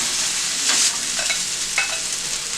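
Vegetarian restaurant-style vegetable fried rice sizzles in a hot pan under a steady close crackle, with a few sharp scrapes of stirring and tossing.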